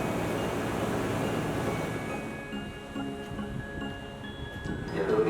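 A train rumbles slowly into Sragen station in Indonesia, a low, continuous drone with faint high squeals from the wheels, growing slightly louder at the end.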